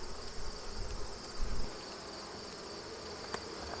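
Honeybees droning inside an opened hive full of brood, a dense continuous buzz close up with a brief louder swell near the start.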